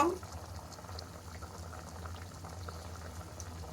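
A spicy chicken curry simmers to a boil in a pot, giving a soft, steady bubbling that stays low and even throughout, with a faint voice in the background.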